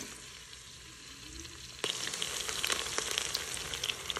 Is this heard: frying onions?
yes